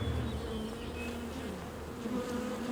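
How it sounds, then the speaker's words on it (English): A steady, close hum of many honeybees buzzing together around a honeycomb, droning continuously with slight shifts in pitch. "first he had to shift the bees from a comb that's ready to harvest"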